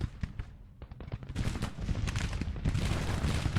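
Civil War battle gunfire in the strategy game Grand Tactician: The Civil War, a dense crackling fusillade of rifle shots that builds into a continuous loud roll.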